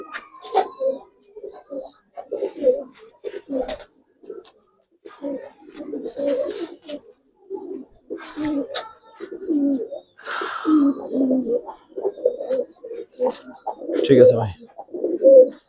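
Giribaz coloring pigeons coo repeatedly in short, close bursts, with frequent low murmuring calls throughout. Someone speaks briefly among the coos.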